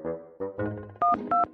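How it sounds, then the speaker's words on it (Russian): Cartoon telephone dialing: a few short tonal beeps of rising pitch, followed by two sharper, louder dual-tone button presses, each brief and evenly spaced, with nothing else heard. "Позвоню Горынычу."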